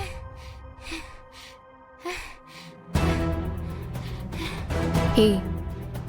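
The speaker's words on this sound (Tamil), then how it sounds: "என்னடி இப்படி மூச்சு வாங்குற? எங்க ஓடிட்டு வந்த?" A girl pants heavily after running in a Tamil TV serial scene. Breathy gasps come in quick bursts at first, then continue under a louder music bed.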